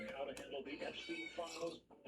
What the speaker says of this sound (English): Yes, kitty, you want to come up?